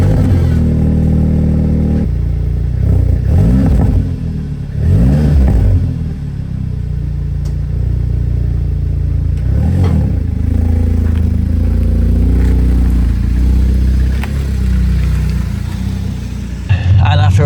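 Replica Audi RS3 engine revving loudly up close as the car pulls away, with a rough, clattery low rumble, rising surges and a brief voice in the mix.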